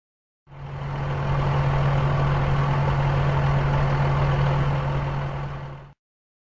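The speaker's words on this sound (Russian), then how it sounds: "Бульдозер." A bulldozer's diesel engine idles at a steady, loud, deep drone with a constant low hum, starting abruptly and running evenly for several seconds before cutting off, no voices.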